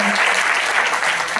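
Audience applause at a live direct-selling business show in a hall, a dense steady burst of clapping lasting a moment and filling the space evenly.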